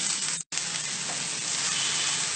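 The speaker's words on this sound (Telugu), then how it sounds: "ఇందులో మనం తీసుకున్న ఉల్లిపాయ వేసుకుని ఇది కొద్దిగా లైట్ బ్రౌన్ వచ్చే వరకు కూడా చక్కగా వేయించుకుంది" Onions frying in hot oil for moong dal, giving a steady, close hiss of sizzling with a brief break near the start.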